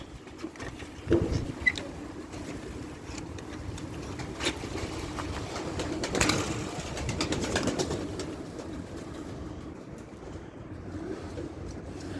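Pigeons coo softly now and then over a constant hiss of outdoor background noise, with no voices present.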